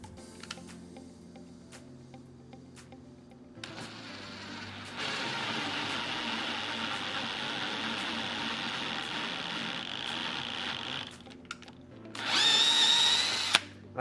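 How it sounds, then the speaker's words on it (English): A power drill set to torque mode runs in a long, steady whir, set off by faint clicks, then cuts to a brief, louder, higher burst near the end; no one speaks. "I have the drill on the torque mode"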